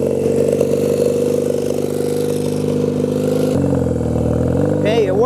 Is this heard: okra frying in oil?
no